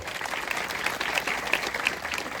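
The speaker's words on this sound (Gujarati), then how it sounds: "મહેન્દ્રભાઈ ઉભા થાય, તાળી વગાડો." Audience at a religious gathering with a Hindu swami clapping together in steady, dense applause that fills the whole moment at an even loudness.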